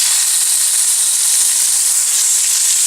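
Chicken pieces fry in a tablespoon of olive oil in a pan over medium-high heat, giving a steady, close, bright sizzle with no break and no talk.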